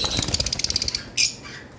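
Caged lovebirds at a breeder's shop give a quick run of rapid, rhythmic flutters and chattering squawks, followed by one sharper, louder squawk near the end.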